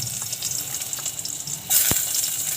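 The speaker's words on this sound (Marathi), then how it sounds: "त्यामध्ये लसूण बारीक चिरून टाकली" Finely chopped garlic frying in a little hot oil in a pot for tempering: a soft, steady sizzle with light stirring clicks, swelling to a louder hiss partway through.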